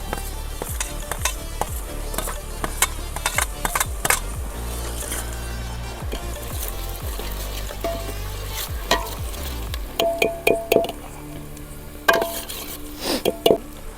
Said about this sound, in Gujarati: આ આપણે મરચાં એડ કરી દીધા હવે થોડી દેર હલાવશું